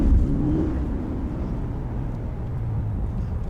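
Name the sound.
truck engine sound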